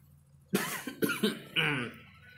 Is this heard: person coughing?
yes